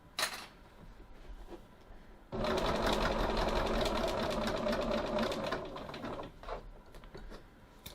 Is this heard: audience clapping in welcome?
no